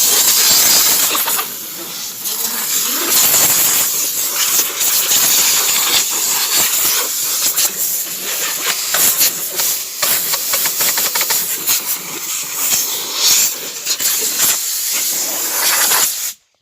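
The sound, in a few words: air blow gun blowing dust off a baler grille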